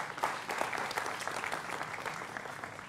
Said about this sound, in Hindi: मृत्युंजय तिवारी, प्रवक्ता आरजेडी के, जोरदार तालियों के साथ उनका अभिनंदन है